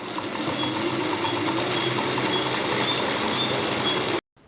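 An electric sewing machine stitches cloth in one continuous, dense mechanical whir for about four seconds, loud and close, then stops abruptly.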